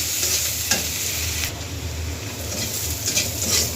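Chopped onion frying in a pan, a close, continuous sizzle with stirring scrapes and a few sharper spatula knocks against the pan.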